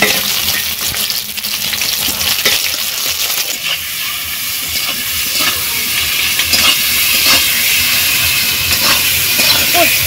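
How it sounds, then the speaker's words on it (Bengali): Tomatoes and slit green chillies fry with browned onions and salt in a hot pan, giving a loud, continuous sizzle and hiss broken by occasional stirring scrapes, heard up close. "এবার দিয়ে দিচ্ছি টমেটো এবং চেরা কাঁচা লঙ্কা"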